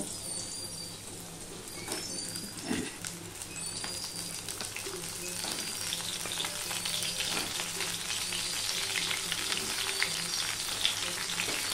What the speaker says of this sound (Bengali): এবার তেলটা গরম হয়ে গেছে, এবার পটলগুলো সবার প্রথমে আমি ভেজে নেব।